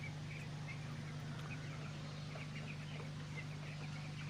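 Fourteen-day-old chickens on a poultry farm make scattered faint chirps and clucks over a constant low mechanical hum, with no voices.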